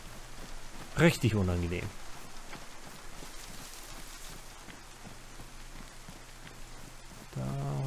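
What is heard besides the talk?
rain in the video game DayZ Livonia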